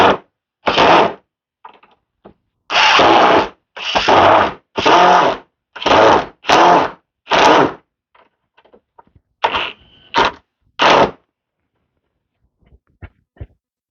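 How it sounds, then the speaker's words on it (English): A power drill drives screws into wood while a raised garden bed is assembled, with repeated bursts of whirring drilling of about half a second to a second each, separated by short pauses and a few faint knocks near the end. "I'm just trying to get my screws started on this wood, so it's a little tough."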